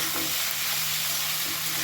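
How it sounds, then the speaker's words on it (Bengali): Ash gourd pieces being stirred in a hot pan, a dense sizzle under brief scraping motions, close and steady throughout. "ভালো করে একটু নাড়াচাড়া করে নেব।"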